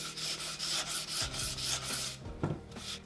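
Sandpaper rubs along the edges of a soft, rough-cut wooden screen printing frame in steady back-and-forth strokes, close and fairly quiet, with a few knocks near the end.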